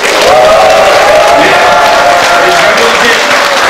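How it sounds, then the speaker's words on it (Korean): Audience at an outdoor rally for regional council decentralization clapping and cheering, a loud continuous wash of applause with a voice over the crowd. "장동진 수석 부의장께 다시 한번 큰 박수 한번 부탁드리겠습니다."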